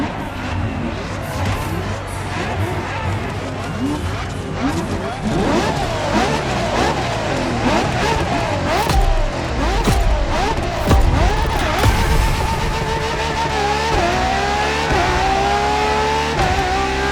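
A LaFerrari hybrid supercar from 2013 in The Crew Motorfest, a racing video game, revs loudly and accelerates through repeated rising engine sweeps and gear changes, up close and dominating, with a voice speaking over parts of it.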